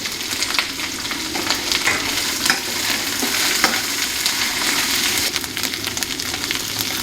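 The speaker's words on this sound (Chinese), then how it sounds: "放点青椒一起炒， 因为那是煮熟了的哈，所以说清炒一下哈" Close, continuous sizzling and scraping as bamboo shoots with green peppers are stir-fried in a wok, with spatula clatter throughout and no talk.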